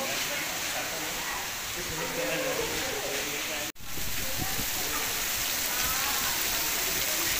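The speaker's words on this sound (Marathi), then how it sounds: "आता सध्या खूप प्रमाणात पाऊस आहे" Heavy monsoon rain pours down outside a church in Goa, a steady dense hiss that carries on without a break, with faint voices talking beneath it.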